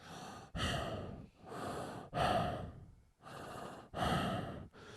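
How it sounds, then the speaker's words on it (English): Heavy, rhythmic breathing of the masked killer Michael in a Halloween film, slow drawn-out breaths in and out, about six in five seconds, close and alone with no talk. "when he puts the mask on, now you hear him breathing."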